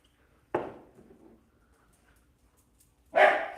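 Two sharp dog barks from pet dogs indoors, one near 0.5 s with a short trailing tail and a louder one near 3.2 s, separated by quiet.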